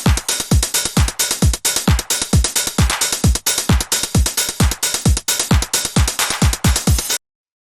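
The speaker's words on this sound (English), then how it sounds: "full drum loop sounds like this" A punchy electronic drum loop plays alone: deep booming kicks in a steady groove with crisp, bright 909 hi-hats ticking on top, then it stops abruptly.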